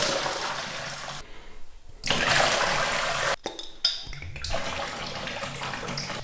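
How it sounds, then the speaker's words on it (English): Cold water gushes into a plastic beer fermenter in bursts, a loud splashing pour that pauses briefly and resumes, close up with no talking. "I'm going to add 5 liters of cold water to it"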